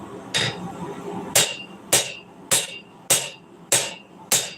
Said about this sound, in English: I was just planishing, just kind of smoothing out some of the bumps.